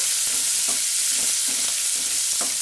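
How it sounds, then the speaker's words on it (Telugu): Steady hiss of tempering spices sizzling in hot oil, with soft rhythmic scraping of stirring every half second or so, close up and with no voices. "కొంచెం పోపు బాగా వేగాలి."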